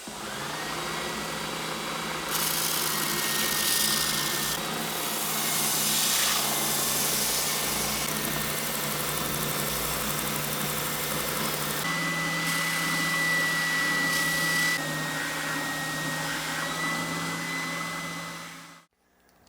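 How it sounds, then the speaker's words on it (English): A spindle sander whines loudly and continuously as a guitar body for a Ceres Theta build is shaped around its perimeter, with the pitch and grit swelling as the wood is pressed in, before the machine cuts off abruptly. "So I got to jump over to the spindle sander and work out the perimeter shape of this thing."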